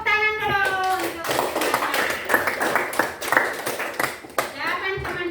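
Children in a classroom clapping for classmates' answers, a lively burst of hand claps at close range mixed with young voices and a teacher speaking.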